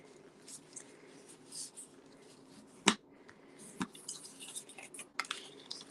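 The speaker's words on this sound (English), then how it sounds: "So I'm just going to come in with my bone folder." A bone folder drawn along a paper fold to press a crisp crease: soft, faint scraping rubs with one sharp snap-like click near the middle, close up and without speech.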